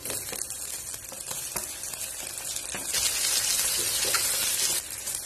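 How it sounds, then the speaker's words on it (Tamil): Tomatoes and onions sautéing in a pan for a coconut-milk chicken gravy, a loud continuous sizzle with scattered stirring clicks that swells louder midway, no voices. "இந்த தக்காளியும் இந்த வெங்காயத்தோட சேர்ந்து நல்லா மசிஞ்சு வதங்கணும்."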